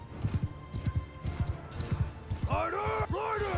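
Horse hooves clip-clopping at a quick trot in Mount & Blade II: Bannerlord, a rhythmic thudding pattern with a neighing whinny near the end, heard alongside background game sounds.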